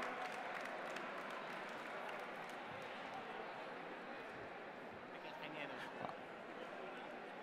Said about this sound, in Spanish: pues un aplauso para Manuel